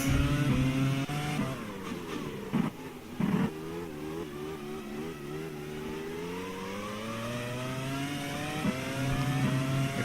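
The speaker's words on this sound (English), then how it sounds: "Accelerating through the gears." A 2002 F1 race car in a racing video game at the French round revs hard and climbs through the gears, its engine whine rising in repeated sweeps, loud and sustained with brief dips at each shift.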